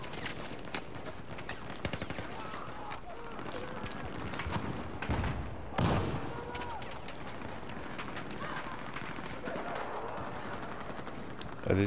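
Battlefield 4 gunfire in the Operation Locker map, a steady clatter of rapid automatic shots and scattered single cracks at mid distance, with one louder blast midway, over constant background noise.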